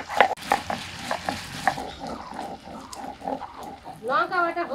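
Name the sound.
grinding chillies on a stone slab (pata)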